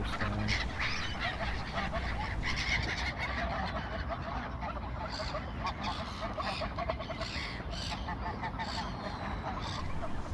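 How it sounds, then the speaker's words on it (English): Swans honk constantly over a dense, noisy outdoor background at a pond in Reykjavik, Iceland, many birds overlapping with no break in the clamor. "Look at all those swans."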